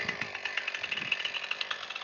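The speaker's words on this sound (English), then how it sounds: "So we rocking with the Husqvarna chainsaw, Husqvarna 455." A Husqvarna 455 Rancher chainsaw cuts through firewood rounds, its engine running as a steady, loud buzzing whine with rapid fluttering pulses throughout.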